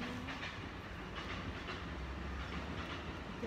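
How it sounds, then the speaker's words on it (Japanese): A train rumbles past nearby in Ofuna, Kanagawa, Japan, a steady rolling clatter with faint rhythmic wheel clicks throughout. "わー、電車"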